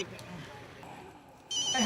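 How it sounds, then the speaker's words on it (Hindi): A telephone rings in a home, a bright electronic ringtone starting near the end after a moment of voices and background noise. "बेना का फोन"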